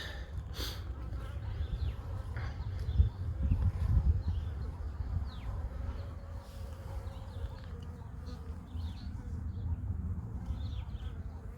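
Honey bees buzz steadily around hives in a mating yard while some fight during robbing, a dense close insect drone with brief louder swells, under occasional faint speech.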